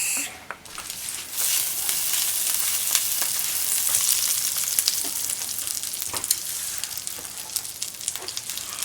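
Butter melts and sizzles in a hot pot on the stove, a steady, bright frying hiss that runs unbroken from start to finish with no voices over it.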